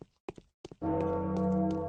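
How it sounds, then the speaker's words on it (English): In the video game Pathologic, a deep bell tolls with a sustained, humming resonance that swells in after a few faint knocks and keeps ringing steadily. "That bell is going to be the shittiest kind of ill omen today."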